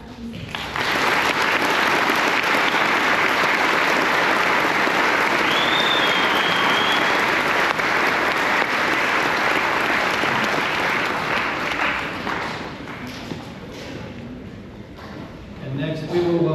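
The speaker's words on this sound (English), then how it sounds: "Please give a round of applause for this new class of 26." Sustained, loud applause from a high school graduation audience honoring the class of 2026 at Mt Olive High School, with dense clapping and crowd noise lasting throughout and slowly thinning toward the end.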